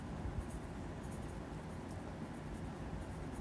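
Marker or chalk scratches across a board during a maths lecture, a soft continuous scribbling over a hissy room background, faint and without speech.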